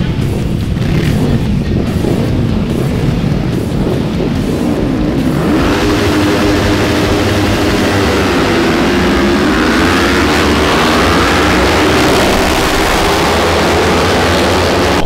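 Race motorcycles of the 300 Super Sport class launch together from a race start, a loud sustained massed engine roar that swells and rises in pitch as the pack pulls away, with no talking.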